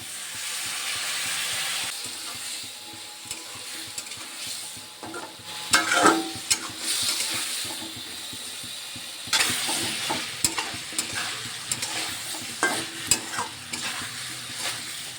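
Pumpkin with turmeric, water and a ginger-garlic-dried-chilli paste stir-fried in a pan: a steady low sizzle under repeated scraping and clacking of a spatula, close, with busier stirring bursts midway and toward the end.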